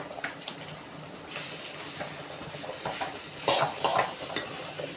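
Potato pieces coated in chilli masala are stirred in a hot pan, a quiet continuous sizzle broken by scraping strokes and a few louder clattering stirs near the end.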